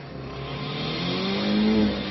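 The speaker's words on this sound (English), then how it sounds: "Listen to the rev of the engine and the smoke coming off of it." A stick-shift car's engine revs hard and climbs in pitch, a loud continuous roar that swells and then eases slightly near the end, heard alone without voices.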